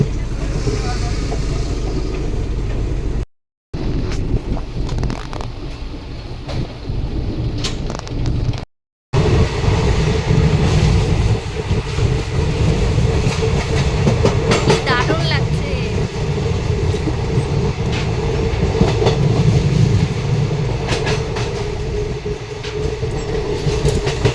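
The Amaravati Express departs a station, rolling along with rhythmic clickety-clack and a continuous rumble, briefly cutting out twice, as voices talk over it.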